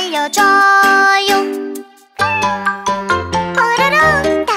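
Cartoon cat meowing within a children's animal song, several bright, sung or synthesized meows in a row over a musical backing, loud and close.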